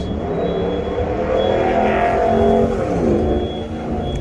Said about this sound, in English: Racing truck, I guess.